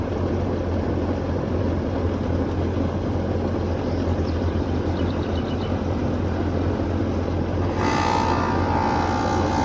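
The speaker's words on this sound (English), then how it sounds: "There's our compressor." An outdoor central air conditioner unit runs with its compressor, giving a loud, steady mechanical drone and low hum close by that holds evenly, with a brief shift in tone near the end.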